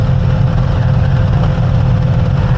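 A GS1300 motorcycle idling with its cooling fan running, a steady, close, loud engine hum with an even whooshing fan layered over it and no breaks.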